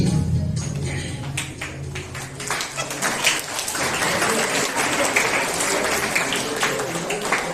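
An audience at a mythological stage play claps in a dense, sustained round of applause, steady and fairly loud throughout with no whistling, the mass of hands building slightly after the opening.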